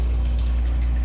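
Tap water runs steadily while mutton intestines are washed, a continuous close splashing flow over a low constant hum, with no talk.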